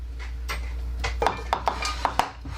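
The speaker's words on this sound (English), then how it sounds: "get them all spread out with a spatula" A spatula spreads food across a skillet in an RV kitchen, a few light scraping clicks and taps against the pan spaced through a steady low hum.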